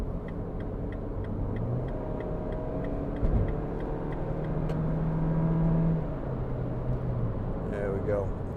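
A 2014 MINI Countryman 1.6 Cooper ALL4 accelerates to 70 mph, its engine drone rising and shifting through gears under steady road rumble heard from inside the cabin, with a turn-signal ticking and a voice speaking over it.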